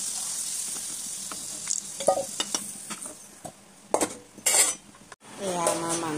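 Small potatoes fry in oil for a broiler chicken dish, with a soft sizzle broken by scattered clinks and scrapes of a utensil against the pan and a brief louder stir near the end.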